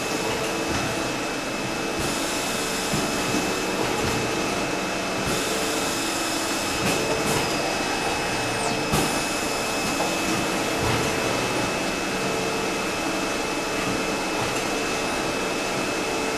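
A large industrial printing machine runs steadily, a loud continuous mechanical hum and whir with faint intermittent clicks and shifts, no voices.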